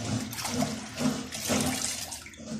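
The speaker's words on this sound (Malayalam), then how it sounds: "നല്ലോണം ഉപ്പിട്ട് ഒരു 5-8 പ്രാവശ്യം അങ്ങോട്ട് കഴുകുക" Stingray fish being washed with salt in water, a steady close sloshing and running-water rush with some splashy swells, no voices.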